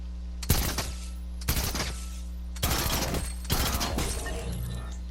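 Machine pistol fire in Fortnite at close range: four separate loud bursts, each a sharp crack with crashing debris, over a steady low game hum.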